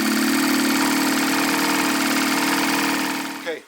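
A vintage Evinrude outboard motor, a 1967 or 1970 Fast Twin, runs loud and steady at close range with a buzzing, even drone before it cuts out abruptly at the end.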